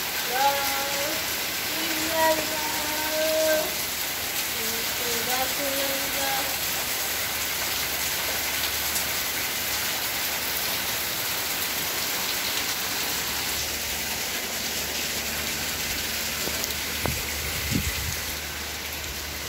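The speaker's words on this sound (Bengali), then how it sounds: "এখন আবার জোরে জোরে শুরু হয়েছে বৃষ্টি পড়া" Heavy rain pours down steadily in a dense, even hiss on surfaces outdoors, with voices speaking over it early on and a few brief knocks near the end.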